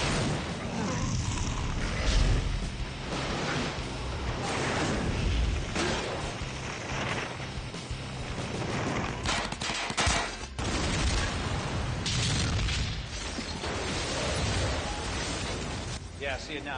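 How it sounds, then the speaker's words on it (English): Loud explosions and bursts of gunfire crackle through a TV action scene from Burn Notice, with repeated booms and rattling blasts mixed with dialogue and a music score. "And an explosion or two doesn't hurt."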